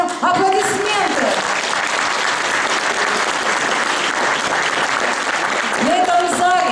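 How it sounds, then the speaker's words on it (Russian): A hall audience applauds veterans of the Great Patriotic War at a Defender of the Fatherland Day gathering, sustained loud clapping throughout, with a voice audible briefly at the start and end. "Давайте подарим им аплодисменты."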